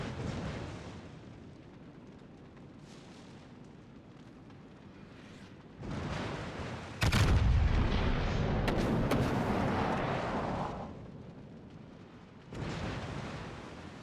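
Heavy naval gunfire from World of Warships, firing AP shells at a Seattle cruiser: a deep rumbling salvo boom swells and sustains for several seconds, then a second loud blast follows, with steady low battle ambience between.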